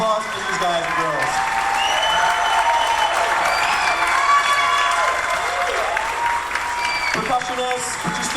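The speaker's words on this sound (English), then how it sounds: "Super round of applause for these guys and girls." Audience applause fills a school band concert for fourth and fifth graders, steady and dense from start to finish, with a few voices and faint cheering mixed into the clapping.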